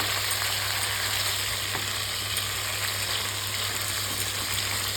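Small fish frying in a pan of oil, a loud, continuous close-up sizzle with steady spitting crackle throughout and no talking.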